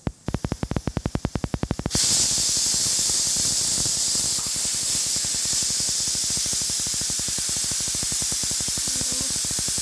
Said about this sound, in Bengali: আমটা সেদ্ধ করতে দিয়েছি, আমটা একটা সিটি বললে বন্ধ করে দেবো।